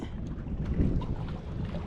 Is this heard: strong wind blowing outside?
yes